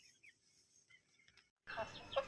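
Three-month-old Metta Vatam chicks cluck and peep faintly in a quiet setting, followed by a sudden louder burst of nearby clucking and rustling toward the end.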